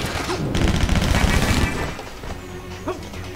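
Rapid MP5 submachine-gun fire in the video game Stranglehold crackles as a dense burst for about two seconds, followed by scattered impacts and game noise; someone comments over it.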